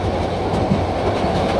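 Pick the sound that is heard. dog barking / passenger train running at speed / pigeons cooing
passenger train running at speed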